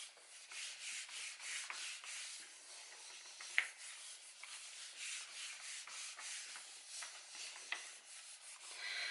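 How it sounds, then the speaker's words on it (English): A hand rubs paper down onto a gelli plate inked with Distress Oxide inks, giving a steady, close, soft scratchy rubbing in repeated strokes with a few small clicks, no talking. "I'm putting this back on and rubbing down again."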